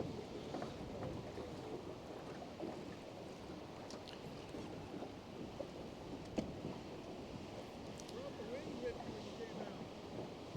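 Steady wind gusting across an open ocean shore during fishing, a constant broad rush with buffeting on the microphone and surf beneath it, no clear speech through the whole stretch.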